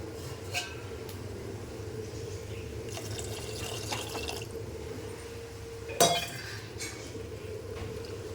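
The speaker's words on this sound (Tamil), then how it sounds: "கொஞ்சம் ஜில் தண்ணி ஊற்றிடலாம்" Cold water poured into a bowl while making kelava fish curry (meen kulambu) in a home kitchen, giving a faint steady trickle under background hum, with a couple of louder clinks of a pot or utensil.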